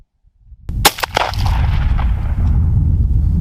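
A 12 gauge shotgun fires a single loud, sharp blast outdoors, and a rolling echo and rumble linger for a few seconds afterward.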